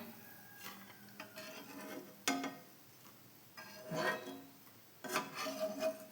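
A metal slotted spoon scrapes and scoops fried masala peanuts out of hot oil in a pan, with intermittent clinks and stirring scrapes over a faint, low sizzle.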